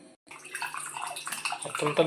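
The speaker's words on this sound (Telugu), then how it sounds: "పిండేసుకోవాలి. వాటర్ మొత్తం అంతా వచ్చేయాలి బయటికి." Water is being squeezed out of fresh paneer wrapped in a cloth for rasmalai, with close, steady trickling and dripping after a brief pause, and a little faint background voice.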